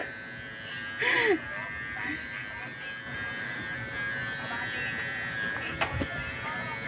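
Electric hair clipper buzzing steadily while cutting an undercut hairstyle, a steady close hum with a brief louder burst near the start, faint voices murmuring in the background.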